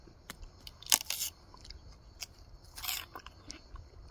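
Crisp crunching bites into a raw chard stalk from an Italian autumn garden, a few sharp close snaps followed by softer chewing, quiet and without talk.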